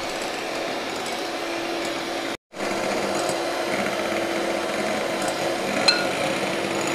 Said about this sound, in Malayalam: വിപ്പിംഗ് ക്രീം ബീറ്റ് ചെയ്തിട്ട് നല്ല ക്രീമി ആയിട്ട് എടുക്കാം